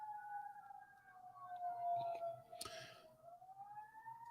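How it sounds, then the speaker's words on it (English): Sirens wail in the background, a steady rising and falling tone that sounds fairly distant and faint, continuous throughout, with a brief noisy burst in the middle and no talking. "If you can hear the sirens in the background, they're not coming for me, folks"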